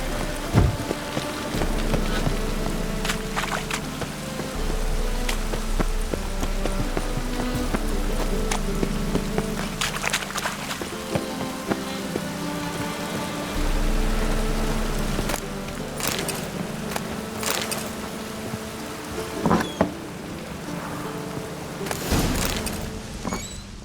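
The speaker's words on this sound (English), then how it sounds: "Raining again." Steady rain patters across surfaces in The Witcher 3: Wild Hunt, Blood and Wine, a medieval fantasy video game world, a continuous wash of drops with scattered sharper ticks and a low hum underneath, with no talk over it.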